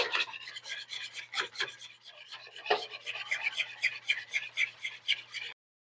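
Yeast bread dough mixture for a stuffed loaf is beaten by hand in a bowl, making close, rhythmic slapping and scraping strokes that repeat steadily throughout.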